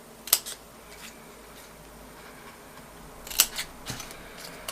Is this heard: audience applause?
no